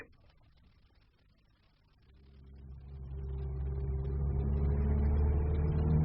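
A car engine starts up and idles in a period radio drama on a snowy country road, a low steady rumble swelling from quiet to a loud, even drone with no talk.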